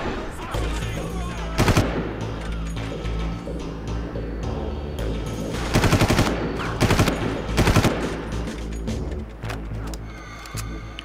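Enemy gunfire in the Far Cry video game, sustained automatic bursts with several louder volleys over a constant rumbling background, fairly close and dense.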